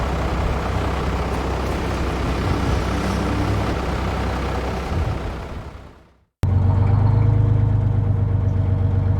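A bus rumbles in with a heavy engine sound that fades to a brief silence, then settles into a loud, steady low idle with a close diesel throb.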